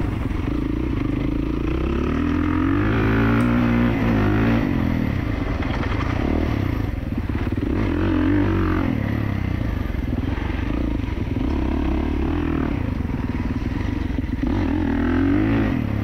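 A 2024 Kawasaki KX450 dirt bike being ridden, its engine droning and revving steadily and close up throughout, with some rattling clatter and no talking.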